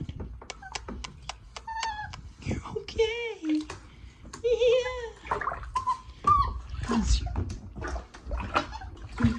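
Labrador puppies in a tub of warm water, with whimpers and whines over small splashes and sloshing, close by, while someone talks soothingly throughout.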